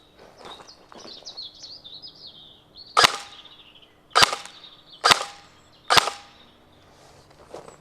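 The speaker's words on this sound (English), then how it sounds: "Now let's shoot towards the trees and see if we can follow the BB." Four sharp, loud cracks from a blowback airsoft gun shooting BBs toward trees, each shot spaced about a second apart, with birds chirping in the background between them.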